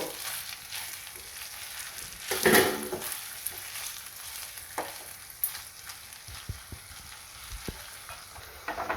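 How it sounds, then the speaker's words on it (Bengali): Chopped tomatoes with half a spoon of salt sizzling and frying in a pan for a kofta curry, a steady hiss broken by a few louder stirring scrapes and soft knocks near the end, no talking. "কেটে রাখা টমেটো তো দিয়ে দিয়েছি, এবার হাফ চামচ নুন দিলাম। এবার একটু কষাবো।"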